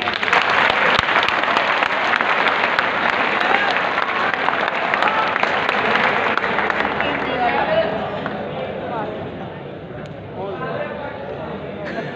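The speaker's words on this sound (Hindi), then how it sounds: "जोरदार तालियां भाई" Loud, sustained applause fills a hall at a college quiz competition on Allama Iqbal day, many hands clapping densely for several seconds before tapering slightly toward the end.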